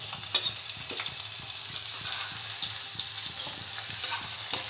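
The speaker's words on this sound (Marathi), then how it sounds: "आपण टोपामध्ये तेल गरम करून राई जिरे टाकलेलं आहे। आता याच्यात लसूण टाकत आहोत।" Garlic frying in hot oil with mustard seeds and cumin in a pan, a bright continuous sizzle with a soft low rhythmic tapping beneath and a few small pops.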